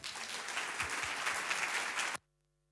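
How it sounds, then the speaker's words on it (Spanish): Enthusiastic applause from a crowd for a string quartet, steady clapping that cuts off abruptly at the end. "le damos un gran, fuerte aplauso"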